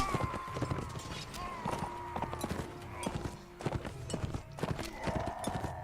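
Horse hooves clip-clop in the medieval battle game Mount & Blade: Warband, a steady busy rhythm of hoofbeats mixed with faint neighs and battle clatter, moderately loud throughout.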